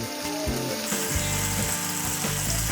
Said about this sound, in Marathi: आपण आत्ता लसूण घेतलेला ना चार ते पाच पाकळ्या ते मी याच्यात घालून घेते